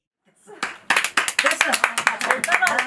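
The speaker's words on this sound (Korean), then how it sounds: "지금 뭐 박수 받고" An audience applauds with a steady run of sharp, close hand claps that starts after a brief quiet moment and continues densely to the end, with voices underneath.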